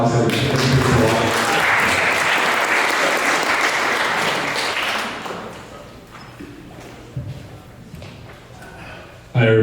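Audience applause fills a conference room at a financial talk, loud and dense for about five seconds, then fades to scattered claps and quiet before a voice starts.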